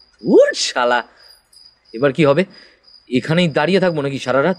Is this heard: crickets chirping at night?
yes